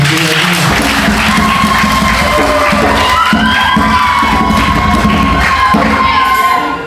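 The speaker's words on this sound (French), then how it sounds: "Applaudissez pour la soeur." Loud, sustained applause from a large church congregation with cheering and shouts throughout, briefly fading at the very end.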